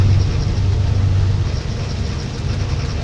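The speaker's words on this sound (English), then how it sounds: "I don't know how well you guys can hear that train, but I have a train." Train rumbling past on railway tracks right beside a home, a steady, loud low-frequency roar that holds constant throughout without any voices.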